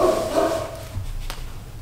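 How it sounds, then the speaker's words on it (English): A dog barks somewhere in the background of a quiet indoor room, a muffled, moderately faint bark with no one speaking. "Sorry about the dog in the background."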